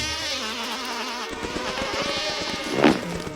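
A bee buzzes around a racket-tail hummingbird feeding on forest flowers, a thin wavering whine under a steady background drone, swelling briefly near the end.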